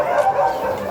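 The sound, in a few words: dogs barking at a pet market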